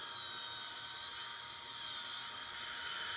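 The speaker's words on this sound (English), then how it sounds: "See how I'm just following the embrasure with the 12-fluted burr?" A dental drill fitted with a 12-fluted bur shapes the embrasures of a porcelain veneer, a continuous high-pitched whine held steady and close, with no talk over it.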